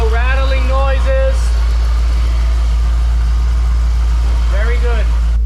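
A supercharged LSA V8 engine idles steadily with a deep, constant low rumble, no rattling; someone talks briefly at the start and again near the end.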